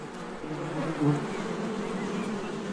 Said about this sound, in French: comment atteindre les rayons de miel défendus par ces milliers d'abeilles?